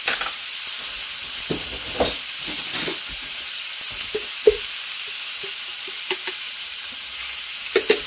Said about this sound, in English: I'm going to put a little garlic in there.